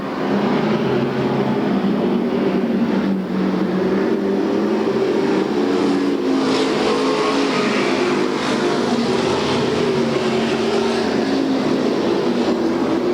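Race cars in the Budweiser Racing Series at Bakersfield roar around the track in a loud, continuous engine drone that rises and falls as the pack passes, with no voices.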